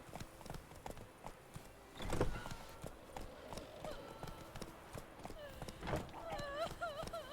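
Roach the horse gallops in The Witcher 3, steady rhythmic hoofbeats clopping close and clear, with a brief whinny and a voice speaking over them.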